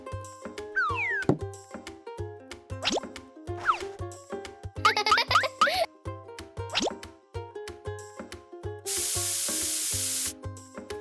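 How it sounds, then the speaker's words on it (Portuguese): A spray can of white paint lets out a steady hiss lasting about a second and a half near the end, following playful music dotted with plopping and croaking effects in a paper stop-motion craft scene. "use spray de tinta branca para mudar a cor da pele para branco"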